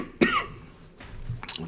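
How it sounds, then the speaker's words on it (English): Two short, sharp coughs from a person with COVID, close to the microphone, separated by a brief pause, with no talking. "sorry, I have COVID, so I cough a bit."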